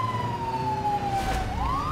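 Police car siren from the BeamNG.drive driving game, a steady wailing tone sliding slowly downward and then rising again near the end, loud and close over low engine rumble, with no talk.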